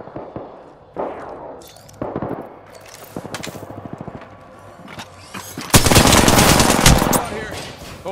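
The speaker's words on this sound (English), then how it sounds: "Opening fire." Video game gunfire rattles out in repeated automatic bursts, separated by short pauses, then swells into a loud, sustained barrage near the end, with occasional voices in the background.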